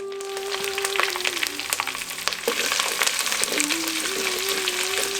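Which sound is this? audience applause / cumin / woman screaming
cumin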